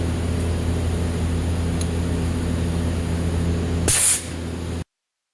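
A steady hiss of air runs as a tire pressure gauge is used on a rally coilover's remote reservoir, ending in a brief louder burst of escaping air.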